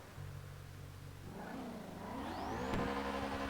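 In GTA V, a Mustang's engine revs up from a low idle into a climbing, rasping whine. It builds louder toward the end and is heard alone.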